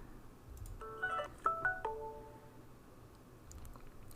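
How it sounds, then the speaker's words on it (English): A mobile phone goes off in a quiet room, a short sequence of faint electronic tones and beeps in quick succession with low background murmur. "That was my phone going"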